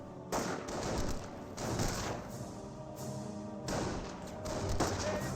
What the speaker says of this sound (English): all 5 members of Volksgrenadiers are firing